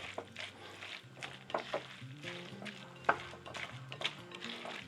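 Spoon stirring thyme into a potato fritter batter, a soft irregular scraping and clinking of utensil against bowl, fairly close and quiet with no one talking.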